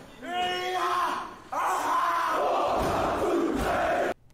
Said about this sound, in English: So I've got this sound source of a Haka.